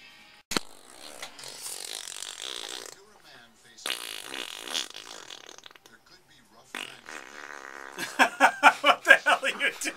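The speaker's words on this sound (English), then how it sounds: "You're looking at Top Shelf making fart noises" A puppy making fart-like noises in a home, sounding as several short bursts and a rapid run of pulsing sputters near the end, broken up by people talking and reacting nearby.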